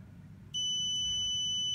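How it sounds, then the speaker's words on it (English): A sudden, loud electronic beep from an IP camera confirming successful setup starts and holds steady as a long tone over faint background hum, with no talking. "Deep beep sounds, long beep sounds."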